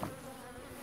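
Honey bees buzz steadily around cleaned hive frames during a hive split, a continuous low insect drone that stays fairly constant and close throughout the short stretch.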